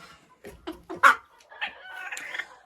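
A hen on a small poultry farm gives a few short clucks, then a longer drawn-out call, loud and close with quiet between the notes.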